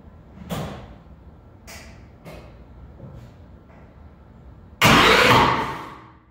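Hydrolocked engine cranking and trying to start: several short separate cranking bursts, then a loud sustained grinding roar near the end, with no one talking.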